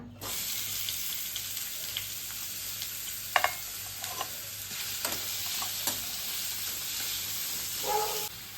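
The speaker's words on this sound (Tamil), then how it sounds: "வெங்காயம் போட்டு நல்லா வதக்கிக்கலாங்க." Sliced onions sauté in sesame oil, a continuous bright sizzle and hiss with occasional spatula scrapes and clinks from stirring, close and steady.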